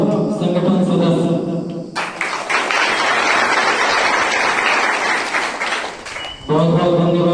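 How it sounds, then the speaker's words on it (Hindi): Applause breaks out from an audience at a social service award ceremony, a broad dense wash of clapping that swells in the middle and sits between stretches of someone speaking over a loudspeaker. "तालियों सीटियों का हल्ला थोड़ा जोर से होना चाहिए"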